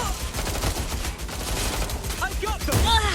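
Gunfire from suspects in Watch Dogs Legion, a dense burst of shots under game music and effects, with a voice speaking near the end.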